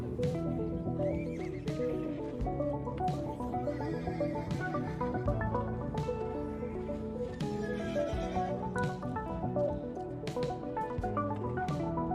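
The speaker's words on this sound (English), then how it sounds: "So this is my horse right here, Spiral Rage." Horse in the MetaParty video game whinnying repeatedly, with clip-clop hoof steps over a steady music backing, loud and close, with no talking.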